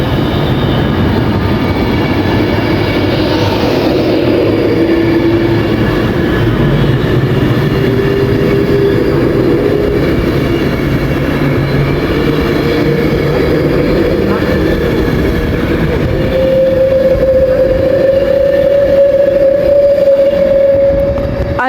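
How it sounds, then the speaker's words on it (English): An Avanti Pendolino train passes through Milton Keynes Central station on the West Coast Main Line. It gives a loud, steady roar throughout, with squeaky tones rising out of it toward the end. "these pendolinos, they sound absolutely amazing"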